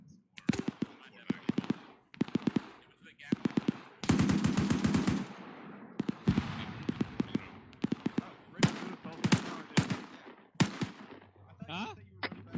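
Close, loud gunfire in a military shooter game: short sharp bursts and a long sustained automatic volley, with quiet gaps between shots and a voice talking briefly near the end.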